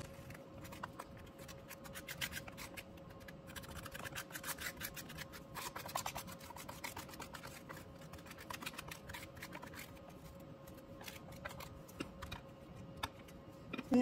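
Powder is pressed into capsules with a manual capsule-filling tool, giving a quiet, continuous scraping and rubbing texture with rapid small clicks and taps, close and faint, with no talking.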